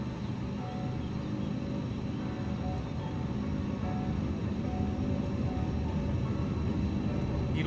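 A light aircraft's engine drones steadily in a flight simulator while the plane sits on the ground with its tail lifting, a constant, even, rumbling hum with no voices.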